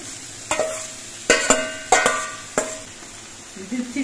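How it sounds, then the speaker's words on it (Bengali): Taro stems dropped into onions frying in a pan, several sharp scraping and clattering strokes over a low steady sizzle, loud and close, without talk. "এবার এর মধ্যে কচুগুলো দিচ্ছি"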